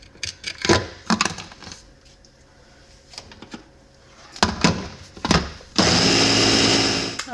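An electric blender grinds crumbs into a paste for stuffed mushrooms. Scattered clicks and clatter come first, then a loud, steady whir runs for about a second and a half before stopping.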